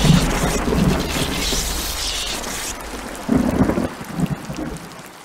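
A thunderstorm with heavy rain pouring down, loud crashing thunder at the start, then steady rain with a second rumbling burst partway through, no voices.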